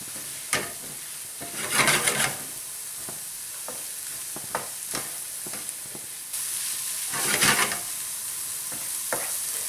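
Lamb pieces frying in infused oil and being turned repeatedly with a utensil, a steady close sizzle broken by scraping stirs and louder bursts of crackle.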